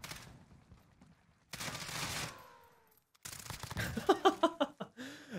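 A Sykov pistol fires in the Call of Duty Modern Warfare video game: a quick string of about eight sharp shots in rapid succession follows earlier bursts of gunfire and effects. The whole scene sounds fairly quiet.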